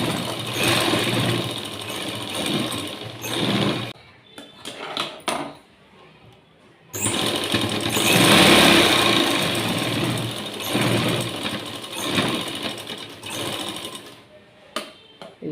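A sewing machine runs the side seam of a blouse in loud, close bursts of rapid stitching, breaking into short stops and a quieter pause midway before resuming at full speed.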